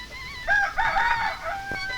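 A rooster crows once, a clear nearby call rising and falling over about a second, followed by a faint cluck against a quiet room background.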